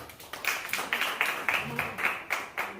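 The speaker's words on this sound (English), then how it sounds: "Alright, give a round of applause as they come." Scattered clapping from the audience at a primary school maths quiz competition as contestants come forward, a few distinct claps in a loose rhythm with faint voices behind.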